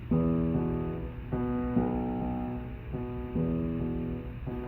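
Solo piano plays the left-hand bass line of a Chopin etude, a low bass line with chords in a moderate, steady rhythm, notes ringing and decaying, close and clear without talking.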